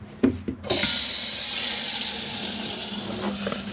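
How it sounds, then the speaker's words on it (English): Hot water runs from a tap into the sink of a Chausson Flash 10 caravan, a steady close gushing stream that starts after a few brief clicks and continues evenly without talk. "And as you can see there, you're getting hot water."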